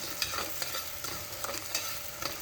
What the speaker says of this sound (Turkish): Soğanları kavruldu.